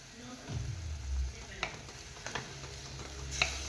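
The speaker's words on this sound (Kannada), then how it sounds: "ಚೆನ್ನಾಗಿ ಫ್ರೈ ಆಗಬೇಕು" Egg curry masala fries in a pan with a soft, low sizzle and occasional scraping stirs and taps of a spoon, heard close and faint.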